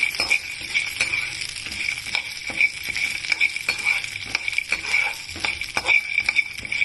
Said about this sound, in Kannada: ಇದು ಚೆನ್ನಾಗಿ ಒಂಥರ ಶಬ್ದ ಶುರುವಾಗತ್ತೆ ಅದು ಹುರಿತಾ ಇರೋದು